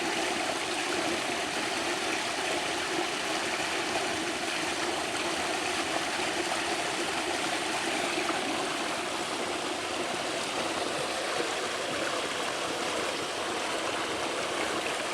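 Strong, steady rush of water gushing from a solar-powered water pump outlet outdoors, a continuous loud broadband flow with no pauses and no talking.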